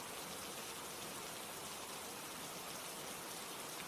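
Steady rain falls continuously and evenly, a dense close hiss of drops on surfaces with no voices or other sounds over it.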